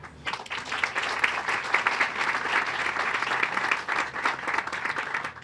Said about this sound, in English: Maybe just another round of applause for the mayor.